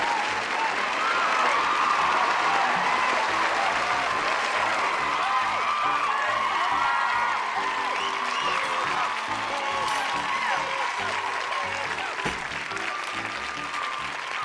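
A large live audience applauds and cheers steadily and loudly throughout, with dense clapping, whoops and crowd noise at a fairly even level that eases slightly toward the end.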